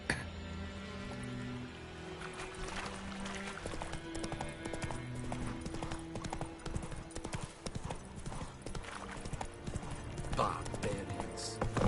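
Horse hooves trotting in The Witcher 3 video game, a steady clip-clop rhythm running throughout over game music and ambience, fairly close and continuous, with a voice speaking briefly.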